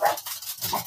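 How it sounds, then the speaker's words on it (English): Several dogs bark excitedly in the background while wind blows the doors, a run of repeated rough barks at moderate distance filling the short moment. "the wind's blowing the doors and the dogs are going crazy"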